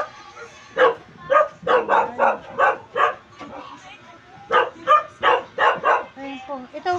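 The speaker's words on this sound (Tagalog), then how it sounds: "May aso." A dog barks in a rapid series of sharp bow-wow barks with a few yips and whimpers near the end, close by at a house in a Philippine barangay, while people talk nearby.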